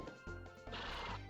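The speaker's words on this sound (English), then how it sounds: "I feel like my horse is making noises because we don't have a high friendship level yet." A horse in the video game Harvest Moon: Grand Bazaar lets out a brief whinny followed by a crashing, thudding game sound effect, faint and short.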